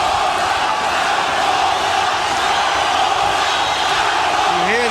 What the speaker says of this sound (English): You hear the crowd chanting for Zaragoza, Zaragoza.